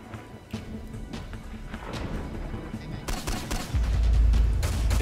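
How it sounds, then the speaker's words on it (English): Bursts of gunfire crackle through a PvP video game base raid, several shots close together and moderately loud, rising into a heavier boom toward the end, with players' voices in the background. "Oh, there's mad gunshots over here."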